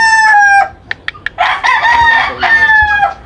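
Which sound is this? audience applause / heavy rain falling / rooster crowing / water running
rooster crowing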